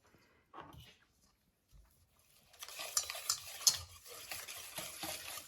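Chaffle batter of mozzarella cheese and cinnamon being mixed in a bowl: quiet at first, then a steady close scraping and stirring with a few sharper clinks, and no talking.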